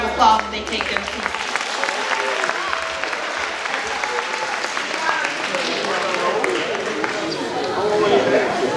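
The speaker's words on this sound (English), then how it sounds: "Let's give them a round of applause as they take their seats." A school sports awards crowd applauds athletes as they take their seats, with broad continuous clapping and some cheering, steady and fairly loud, with a few voices mixed in beneath it.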